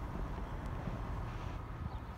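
Onshore wind blowing in from the sea toward the shore at a seaside fishing spot, buffeting the microphone as a steady low rumble with no one speaking.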